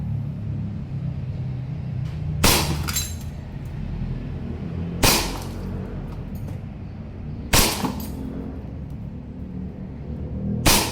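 A WE Hi-Capa 3.8 Brontosaurus airsoft pistol fires at glass targets, giving four sharp, bright cracks of breaking glass spaced about two and a half seconds apart over a steady low outdoor rumble.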